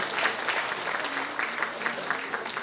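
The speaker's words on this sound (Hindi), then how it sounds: "नेक्स्ट तालियां कम हो गई है, जिसकी उम्मीद थी उतनी नहीं बज रही है" Audience applause at an agricultural company seminar in India, a steady wash of many hands clapping at moderate volume for a few seconds, with no voices clearly on top.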